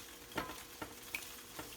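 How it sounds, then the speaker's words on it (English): Eggs scrambling in butter in a pan, a steady faint sizzle broken by four soft scrapes of a utensil at an even pace, close by, with no talking. "Anna's gonna scramble that up"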